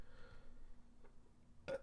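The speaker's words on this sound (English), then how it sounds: "Did you just like burp and yawn at the same time?" A short, close burp merging into a yawn, one quick voiced gulp at the very end of an otherwise quiet moment.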